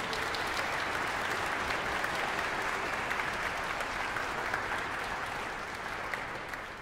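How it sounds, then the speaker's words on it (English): An audience in a university concert hall gives a sustained round of applause to welcome 110 visiting string students at a symphony orchestra concert, steady and dense before easing slightly at the end. "Let's give them a round of applause and welcome them to WVU."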